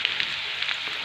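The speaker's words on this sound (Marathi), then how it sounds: "लसूण छान ब्राऊन रंगावरती येईपर्यंत परतून घ्यायचं आहे" Crushed garlic frying in hot oil for a Maharashtrian yogurt kadhi, a steady bright sizzle with faint crackles, close and continuous for about a second.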